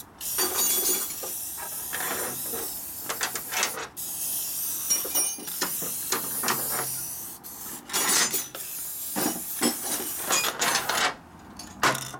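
Aerosol chain lube sprays in short hissing bursts onto the chain of a 1941 74ci Knucklehead bobber chopper motorcycle, with rubbing and clinking sounds between the sprays.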